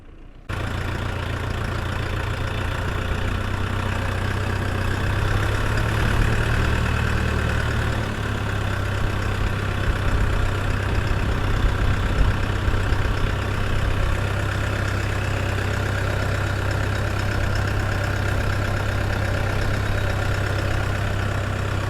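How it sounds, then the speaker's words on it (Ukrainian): A heavy tractor engine idles steadily and continuously, a low droning rumble with no voices over it. "Оце вже збирається трактор вже їхати."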